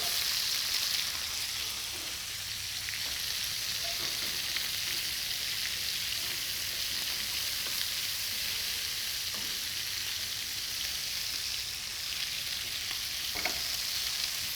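Onion frying in a touch of oil in a pan while lamb stew is being prepared, giving a steady, close, even sizzle throughout with faint scattered crackles and no voices.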